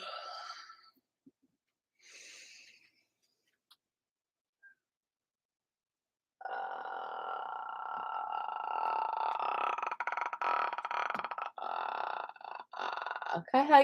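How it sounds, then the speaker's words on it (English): A few short vocal sounds, then a long, rough, gurgling throat noise from constricted vocal cords as a vocal exercise, with crackling texture, made up close by a voice alone. "Breathe in slightly, constrict the vocal cords, and just gurgle out like."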